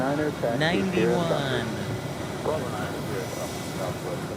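Airbus A321 airliner at Phoenix Sky Harbor Airport, a steady jet-engine roar and airflow hum in the distance, continuous under a person talking close by.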